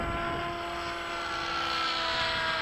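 Solo Hawk model airplane taxiing at Bayside, its small engine giving a steady, continuous buzzing drone with a constant pitch throughout, fairly close and alone without talk.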